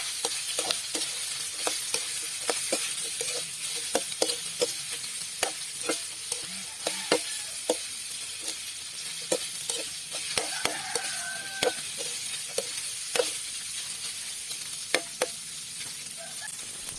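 Leftover roast chicken sautéing for ginisang upo, a steady sizzle with repeated sharp clicks and scrapes of a utensil stirring in the pan.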